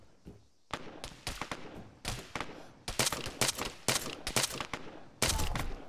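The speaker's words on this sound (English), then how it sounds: "Let's put another nade in there." Explosions and gunfire in the Arma 3 military shooter, including a thrown grenade, come as a rapid barrage of loud, sharp bursts and booms close by, with a heavy blast near the end.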